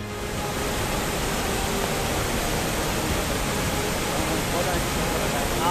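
Flood rainwater in Ramanagara pours like a waterfall down a gully behind the district commissioner's office, a loud, unbroken roaring rush of water that stays constant throughout.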